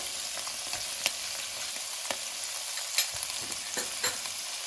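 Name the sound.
sautéing onion with ginger garlic paste and green chilies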